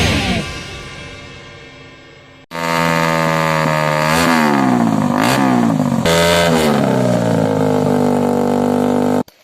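A motorcycle with a noisy aftermarket exhaust is blipped and revved repeatedly near by, its harsh, buzzy roar rising and falling in loud surges after an opening fading whine, with no talk.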